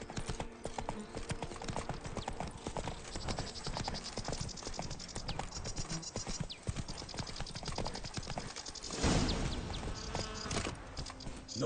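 Roach the horse's hooves clip-clop in a steady rhythm in The Witcher 3, mixed with creaking tack and mechanical game sounds, a dense continuous bed without talk.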